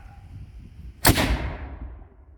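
A real cannon fires at a 250th anniversary Revolutionary War reenactment, one loud, close blast that booms out and then rolls away in a long fading echo.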